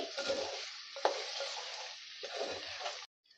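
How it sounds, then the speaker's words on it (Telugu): Onions fry in a pan over a medium flame, a steady close sizzle broken by a couple of stirring scrapes, ending abruptly without any voices. "మీడియం ఫ్లేమ్లో పెట్టుకొని ఆనియన్ కూడా మంచిగా ఎర్ర కలర్ వచ్చే వరకు వేంపుకోండి"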